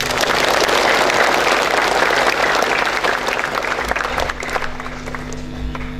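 Students and staff at a Monday school flag ceremony in Indonesia clapping in a loud, dense round of applause that gradually thins and fades toward the end.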